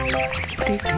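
Duck quacking repeatedly in short bursts at close range, while someone coaxes it to go swimming in a playful outdoor setting.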